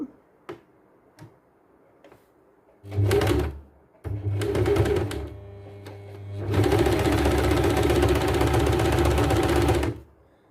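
A sewing machine stitches a back dart on a kurti, starting with a few taps and two short runs, then settling into a long, steady, close rattling run of about three and a half seconds before stopping.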